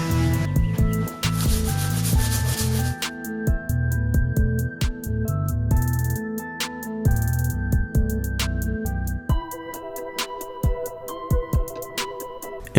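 Sanding the severely chipped front bumper of a BMW E90 being stripped for a full paint job: continuous loud, rasping rubbing strokes in an uneven rhythm, close up with no talk.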